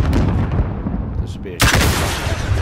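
A gunshot in Call of Duty Modern Warfare cracks out sharply partway through, standing loud above a steady background of game noise.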